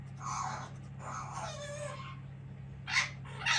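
A voice imitates a cat meowing, several drawn-out vocal mews followed by two short, sharper bursts, close to the microphone over a low steady electrical hum.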